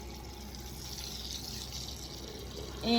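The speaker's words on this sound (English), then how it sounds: "we fill them with water, which is what I'm gonna do now" Water runs steadily into horse feed buckets with a low hollow rush, then a brief sharper splash-like burst near the end.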